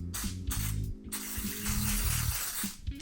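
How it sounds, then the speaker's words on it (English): WD-40 sprays in short hissing bursts onto old bearings from a tandem bike during restoration, close and fairly quiet, with a ratcheting mechanical click between bursts. "I like using WD-40 because it just gets all in there and breaks it down."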